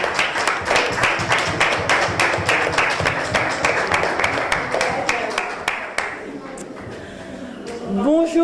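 Regular rhythmic clapping from a small group at an association's family day, about two claps per second for six seconds, then fading as a voice speaks over the end.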